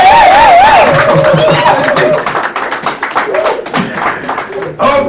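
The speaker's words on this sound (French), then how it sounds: "Alors nous allons acclamer très très fort." Wedding guests at a civil ceremony clap and cheer loudly. A woman's wavering, high-pitched ululating cry sounds at the start, and brisk applause follows, with voices mixed throughout.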